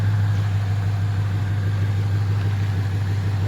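A stock 2013 Ford Mustang engine idles smoothly and steadily in its bay, a constant low hum close by with no rattles or voices.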